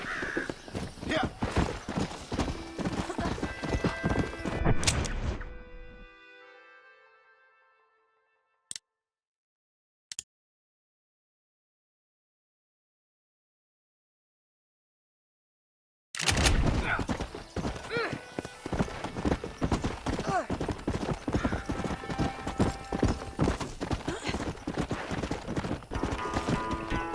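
A horse ridden slowly in Red Dead Redemption, hooves clip-clopping in a steady, close rhythm that cuts out to near silence for about ten seconds before the trotting resumes just as clearly.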